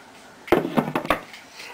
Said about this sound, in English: Grab them and open the lids.